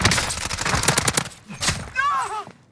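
Rapid automatic gunfire in a shooter video game, a dense burst of many quick shots, loud and close, mixed with a voice talking over it before the firing breaks off.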